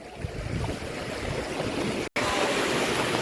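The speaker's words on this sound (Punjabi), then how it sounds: "ਪਾਣੀ ਵੱਧਦਾ ਪਿਆ ਆ ਆ ਦੇਖਿਓ ਪਾਣੀ ਆਉਣ ਲੱਗ ਪਿਆ" Sea water washing in around a seaside temple where the tide reaches its five Shiva lingams, a steady broadband rush of surf that holds continuously apart from a brief cutout just past the two-second mark.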